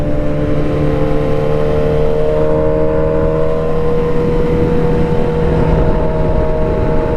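A Suzuki GSX-S 750 naked motorcycle engine running loud and close, a steady throbbing drone with stable tones and no talk over it.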